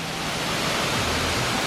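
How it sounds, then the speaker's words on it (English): La Coca Falls in the El Yunque rainforest, Puerto Rico, gives off a steady, dense rushing roar of falling water, heard close and unbroken throughout. "there's a viewpoint of one of the waterfalls here. So this is La Caca Falls."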